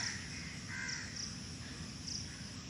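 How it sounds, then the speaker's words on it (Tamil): Crows circle overhead on an early morning walk and give a few scattered caws at a distance. The calls are faint and sit over a low, steady background of ambient hum. "இங்கே பாருங்கள், காக்காய்கள்லாம் நிறைய சுற்றிக்கிட்டு இருக்கு."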